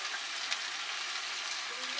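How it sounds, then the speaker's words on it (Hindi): Ginger and garlic paste frying in a pan for chicken rajma, a steady, even sizzle close by with no break, no talk over it. "जिंजर और गार्लिक पेस्ट डाल दीजिए इसी पर।"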